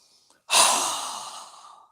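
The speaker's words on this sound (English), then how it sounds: "We're going to exhale with a strong breath with our mouth open wide." A single strong breath is pushed out through a wide-open mouth during yoga breathing practice. It comes as a close, breathy whoosh after a faint inhale and fades away over about a second and a half.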